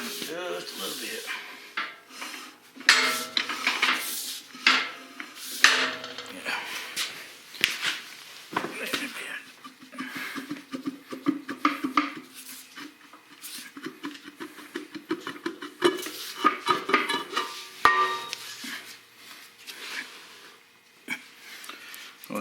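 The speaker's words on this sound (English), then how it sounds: "Drum back on, turn it just a little bit." A brake drum being slid back onto a Massey Ferguson 240 tractor and turned slightly, irregular metallic scrapes, knocks and grinding rubs up close, with someone talking intermittently over the work.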